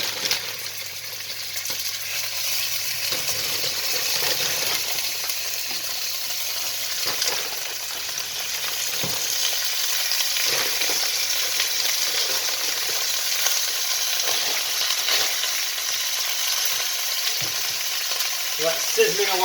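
Pieces of lamb sear in hot oil for a stew, giving a steady, close hiss and crackle with occasional stirring scrapes and clinks, no talking over it.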